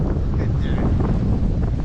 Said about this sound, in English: And we've got a good gust of wind here, Ronnie.